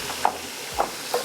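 Cumin seeds and garam masala crackling in hot oil for a Degi beef nihari tarka, with three short stirring scrapes spaced through a quiet, close, steady sizzle.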